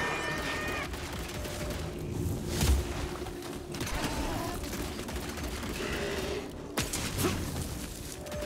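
Gunfire from the video game Evil West, with steady rattling shots and mechanical clatter running throughout over a dense game soundscape, plus a heavier impact near the middle.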